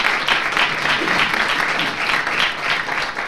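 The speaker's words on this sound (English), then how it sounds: "I want you to give them another round of applause and thank them very much." A conference audience at a national cyber security event in Jamaica applauds at the close of a session, loud sustained clapping with a gently pulsing swell throughout.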